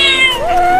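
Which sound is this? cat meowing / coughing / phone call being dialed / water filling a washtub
cat meowing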